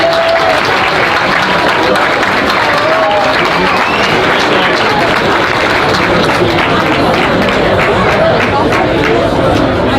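Sustained, dense applause from a crowd at a school homecoming Hall of Fame induction ceremony, loud and steady throughout with a murmur of chatter mixed in.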